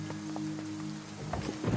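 Steady rain falls in a continuous broadband hiss with a low hum beneath it, moderately loud throughout, with a few louder splashy patter bursts near the end and no voices heard.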